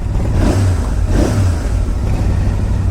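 A 650 cc motorcycle engine revs hard in two quick throttle blips and then holds a loud, steady, rumbling note close by, with no voices.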